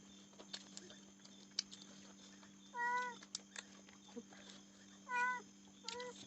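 A cat gives two short, rising meows a couple of seconds apart, fairly faint over a quiet background hum and light clicks.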